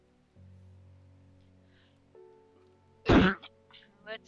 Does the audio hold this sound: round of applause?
no